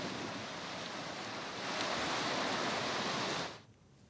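Water released from Tungabhadra Dam roars into the river as a broad, continuous rushing wash, swelling slightly midway and dropping near the end, with no voices.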